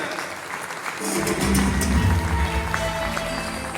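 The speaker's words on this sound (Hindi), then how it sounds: "big round of applause for Lakshmi sir" Audience applause for Laxmikant Sir, the host and ground director, on stage at a speech event; clapping swells loudly after the first second and holds steady with dense crowd noise and faint background music.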